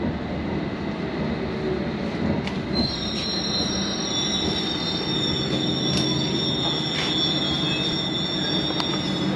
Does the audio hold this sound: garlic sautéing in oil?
no